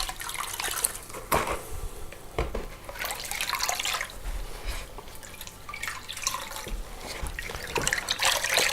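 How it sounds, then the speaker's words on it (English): Grout sponge being rinsed in a bucket of water while making mosaics, giving a continuous close trickling, sloshing and dripping with no talk over it. "So we just wipe it over and then we rinse it in our bucket."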